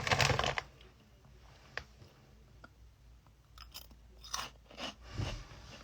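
Someone munches a crunchy crab-flavoured snack made from konjac, with crisp bites and crunching near the microphone, loudest at the start, then sparser chewing and small clicks over a quiet room.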